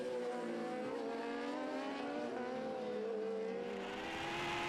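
Road racing motorcycles at the Cookstown 100 approach on the circuit, a distant, steady high-pitched engine whine with layered harmonics that swells slightly toward the end, no voices.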